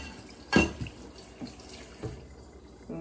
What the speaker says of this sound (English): Rinse off the plate.